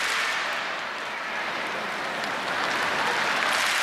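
An athletics stadium crowd at a 2010 World Cup meet claps for high jumper Blanca Vlasic, a broad, steady wash of applause from a large audience that swells slightly toward the end.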